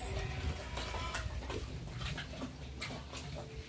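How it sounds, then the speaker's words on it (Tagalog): Pigs grunting and squealing at a piggery in a noisy, continuous jumble, with scattered sharp squeals over a steady low rumble. "Maingay po ang baboy doon sa taas namin."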